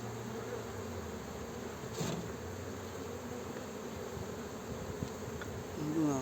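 Honey bees hum steadily at an open hive frame holding honey and pollen in Muğla, a continuous close buzz filling the whole stretch with slight swells.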